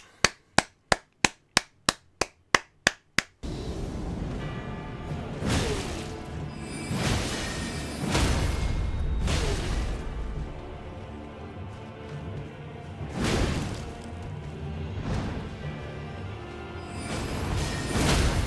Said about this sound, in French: Ah le troll! Il tire le gros marteau.